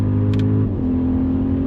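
Audi RS Q8 Performance, a roughly two-ton SUV, accelerating hard on a racetrack: a loud, steady engine drone with strong low harmonics that holds on and on, with a slight dip in pitch partway through and no talk over it.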